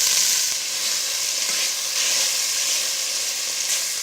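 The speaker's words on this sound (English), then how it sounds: "So now we just add in our beef. And we want a really good sear on all of this." Beef searing in a pot for beef burgundy gives a steady, loud broadband sizzle and hiss of frying meat, continuous throughout with slight swells and no speech.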